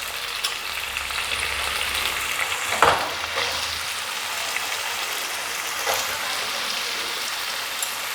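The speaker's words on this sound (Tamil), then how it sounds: "எண்ணெய் ஊற்றி உருளைக்கிழங்கு போட்டிருக்கேன்." Cut potatoes frying in hot oil in a pan for a home-style Tamil lunch, a steady, close, continuous sizzle with a couple of brief louder pops and stirring sounds, and no talking.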